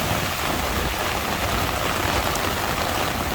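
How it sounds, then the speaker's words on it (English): Steady, dense rain pours onto a city street at Asok Junction in Bangkok during the monsoon season, a loud continuous wash of drops with no voices. "It makes it look like it's really storming, but it's just a normal rainy day"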